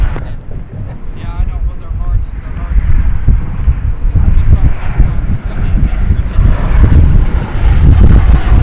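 A KLM airliner passes at DFW Airport, its broad engine roar and rushing wind noise swelling and holding loudly across several seconds, with a person talking intermittently over it.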